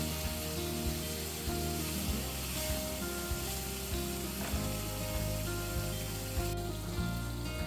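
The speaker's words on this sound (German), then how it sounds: "dann wende ich sie und brate sie von der anderen Seite an" Beef shank slices sear in a hot frying pan with a steady, loud, dense sizzle and crackle that runs unbroken throughout, close up with no voices.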